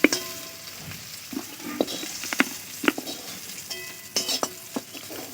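Bhendi fish frying in a wok: a soft steady sizzle of oil broken by clinks and scrapes of a spatula against the pan, irregular and close.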